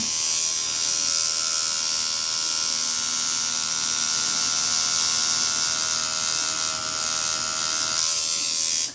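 A tattoo machine buzzes steadily while running a line on skin, a close, continuous electric drone with a dense high whine that holds level before cutting off at the end.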